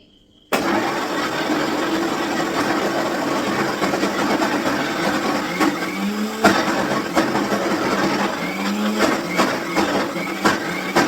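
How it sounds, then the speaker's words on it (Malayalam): A mixer grinder blending a shake gives a loud, steady motor whir that runs continuously from start to finish, with a few brief knocks and clunks over the grinding drone. "നമ്മൾ ഷേക്ക് അടിക്കാൻ പോവുകയാണ് ഇതാണ് നമ്മുടെ ഇവിടെ പരമ്പരാഗതമായിട്ടുള്ള മിക്സി"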